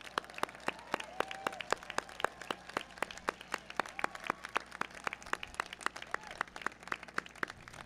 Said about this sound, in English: everybody clap it up for them.